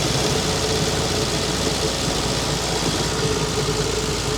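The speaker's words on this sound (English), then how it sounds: "Wow! It's idling!" An abandoned classic French car's engine idles steadily after being coaxed to life on half choke, a rough, constant mechanical drone with some knocking vibration, loud and close, with no voices over it.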